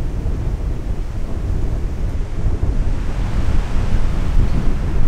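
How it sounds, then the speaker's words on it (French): Strong wind roars and gusts continuously through a forest bivouac, a loud, rushing wash of noise that buffets the microphone and builds slightly toward the end. "le vent n'a pas faibli. Toute la nuit, il a soufflé et soufflé encore, inlassablement."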